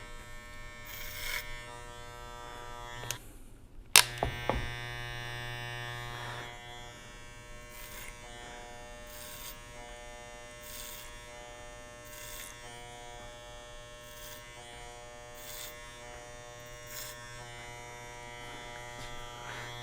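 Capri hair clipper buzzing steadily while cutting hair over a comb, a continuous close electric hum with a brief louder clatter early on and faint snips of hair being trimmed.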